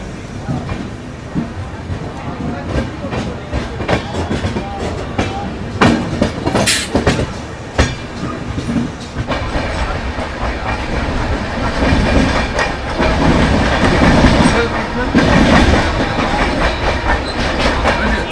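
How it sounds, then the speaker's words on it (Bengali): Passenger train running through Santragachi Junction on the Kolkata to Ghatshila route, a loud continuous rumble with rhythmic wheel clatter and occasional sharper rattles, heard from on board. "ট্রেন ক্রস করছে এখন সাঁতরাগাছি জাংশন।"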